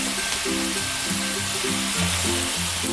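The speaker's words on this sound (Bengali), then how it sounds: "এবারে আমি বাঁধাকপিটা দিয়ে দেবো।" Cabbage goes into a pan of frying chicken curry, and a continuous loud sizzle and hiss carries on throughout over a low, tonal background.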